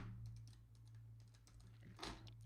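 Typing on a computer keyboard at a desk, a steady patter of soft key clicks with a brief louder flurry near the end, close by over a low constant hum.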